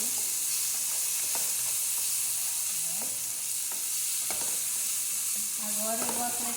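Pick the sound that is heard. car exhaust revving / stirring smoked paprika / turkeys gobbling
stirring smoked paprika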